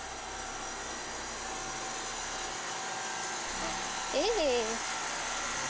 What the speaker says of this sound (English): There's that noisy cooler. Ah, it's noisy.